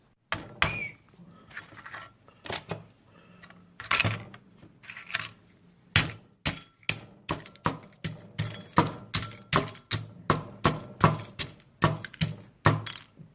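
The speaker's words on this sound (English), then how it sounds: "So I'm going to grind this hard bread into breadcrumbs." Hard bread is ground into breadcrumbs as a series of sharp crunching strokes that start sparse and then fall into a fast, steady rhythm, close and fairly loud, with no talking.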